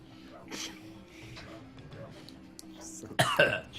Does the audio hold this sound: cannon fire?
no